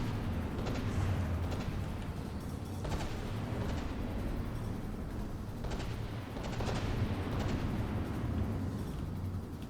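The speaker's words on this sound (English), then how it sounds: "More torpedoes coming in and ripping large numbers of health off." Battleship combat in a naval video game tournament, with torpedoes and heavy shells striking the ship in a continuous roar of booming impacts and rumbling explosions, loud and dense with repeated sharp blasts.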